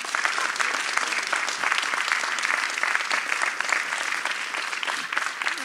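Steady applause from a crowd at a Polish political gathering, dense and continuous clapping for the full stretch at moderate loudness with no speech on top.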